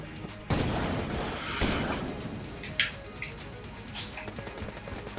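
Dense machine-gun fire in the video game Enter the Gungeon, loud rapid volleys with sharp bursts and impacts that rise and fall over several seconds.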